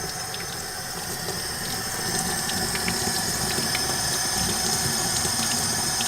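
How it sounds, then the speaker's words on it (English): Skateboard bearings are spun and rinsed under cold water running from a tap, a loud, steady rush of water that holds throughout with no pauses. "Spin it a little bit under the water. Let the water get through and rinse any kind of debris"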